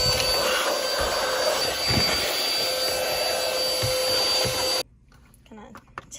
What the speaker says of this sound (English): So I got a cordless car vacuum on Amazon Prime Day, and I've tested it out, and it actually works really well compared to my old one.